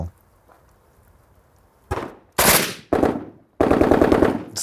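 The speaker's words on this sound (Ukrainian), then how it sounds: "Робимо один постріл, да, і дивимося, чи фіксує 129 дБ." Sharp, muffled gunshots from a suppressed firearm, measured around 128 dB, crack out in a quick series of four loud blasts after a quiet stretch, each with a short rumbling decay.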